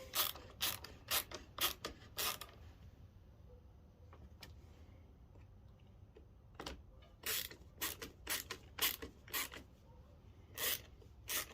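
A ratchet tightening nuts on a Stihl MS170 chainsaw carburetor, bursts of rapid sharp clicking strokes close up, separated by a quieter pause in the middle.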